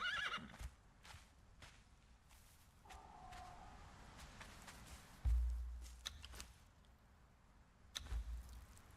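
Horse in Conan Exiles giving a neigh near the start, followed by scattered hoof clops, footsteps and a couple of low thuds against quiet game ambience.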